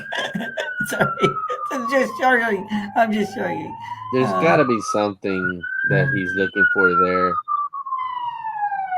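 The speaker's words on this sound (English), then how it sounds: "That's a siren, fire engine going up the road here behind me." A fire engine siren wails steadily in the background as it passes up the road, its pitch sliding down and back up, while someone talks over it close by.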